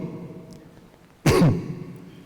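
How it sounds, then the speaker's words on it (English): A single short cough from someone speaking at a cosmology workshop, one abrupt loud burst about a second into a quieter stretch of room sound. "sorry, I have cough."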